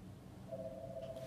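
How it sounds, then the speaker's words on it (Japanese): A telephone rings for an incoming call, a steady electronic ring tone entering partway through and holding at moderate level over a low background hum, with no talk. "あ、電話かかってきちゃった"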